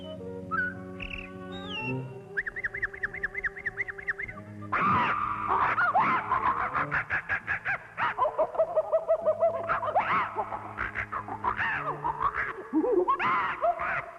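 A voice actress imitates a jungle scene, trilling and whistling like parrots and other birds and chattering like monkeys, a dense, continuous run of calls and squawks that grows louder and busier over the course of the performance.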